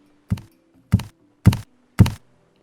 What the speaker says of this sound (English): Opening my storages was loud.